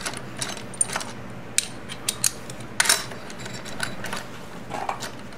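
A ratchet snugs the lug bolts on a 2002 BMW K1200RS motorcycle wheel, giving close, light metallic clicks in short irregular bursts, with a cluster of sharper ticks midway and no voices.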